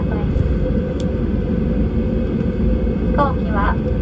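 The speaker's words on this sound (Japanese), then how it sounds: "飛行機は6番ゲートに到着する予定です。" ANA Airbus A320 on flight 627 taxiing to the gate at Kagoshima Airport, heard from inside the cabin as a loud, constant low rumble, with brief voices near the end.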